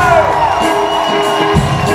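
A loud live rock concert crowd at Art Rock cheers, whoops and claps for the drummer, a dense close roar with shouted voices throughout.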